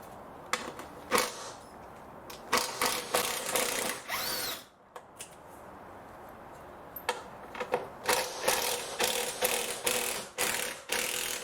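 Torx screws are removed from the AC condenser of a BMW E60 5 Series with a ratchet, giving close, repeated clicking bursts broken by short pauses.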